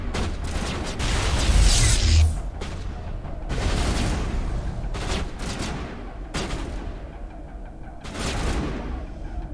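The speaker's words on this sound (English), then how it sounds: "Oh, that's a grenade." Explosions and gunfire during combat in Mass Effect Legendary, including a grenade blast, with repeated loud bursts and booms spaced a few seconds apart over a rumbling background.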